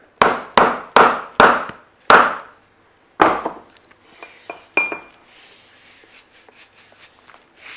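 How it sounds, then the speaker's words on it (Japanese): Hammer tapping on the sewn welt of a hand-sewn welted whole-cut leather shoe: five sharp, evenly spaced close strikes, then a few sparser taps and lighter clinks, with no talking. "そしてハンマーで叩く。"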